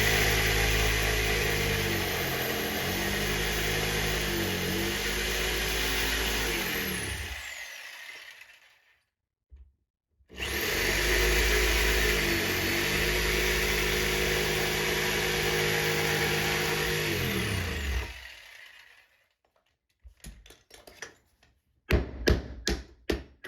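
A power saw cuts through the wooden nosing of a stair landing in two long, loud passes separated by a brief pause, each ending as the blade spins down, followed by a few sharp knocks and taps.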